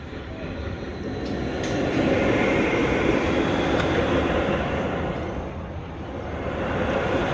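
Ice Breaker roller coaster trains at SeaWorld Orlando rumble and roar steadily along the track during testing, a continuous heavy rolling noise that swells and fades slightly.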